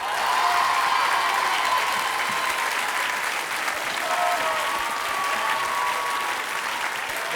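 A studio audience gives a dense, sustained round of applause for a two-time French champion in a children's competition. It is steady and fairly loud throughout, with faint cheering in places.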